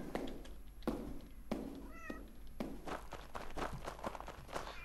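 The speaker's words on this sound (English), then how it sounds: "Shut up, cat." A cat meows inside the horror video game SOMA, a few short mewing calls mixed with quiet footsteps and soft game ambience, fairly faint overall.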